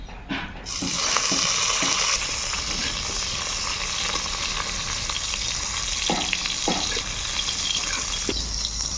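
Tomato fries in oil in a pan, a steady loud sizzle close by with occasional scraping stirs and clacks, no voices.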